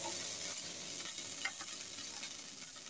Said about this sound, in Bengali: বেগুন ভাজিগুলো হয়ে গেল